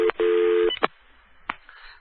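Telephone busy signal heard right after a number is dialed: a short burst of steady two-tone beeping, loud and close, followed by faint handset clicks and quiet line noise.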